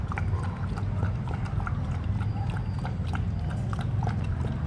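A dog slurps soup with pork liver from a bowl set on the floor, producing a close, continuous patter of wet lapping clicks and smacks against a low background hum.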